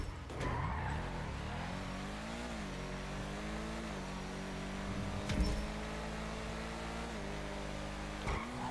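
A car spinning and skidding during a street race in GTA V Online, with a steady engine drone and long tire squeal that rise and fall, plus brief thuds, heard alone at moderate loudness.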